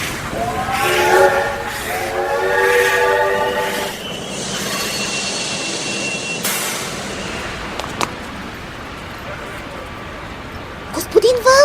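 A passenger train pulls in with a loud horn blast, then rolling wheels and clatter continue at steady volume, with a brief squeal near the end.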